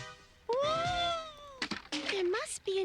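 A cartoon cat in the Rainbow Brite animated series meows in a few drawn-out, rising and falling calls, loud and close, broken by brief bursts of other sound toward the end.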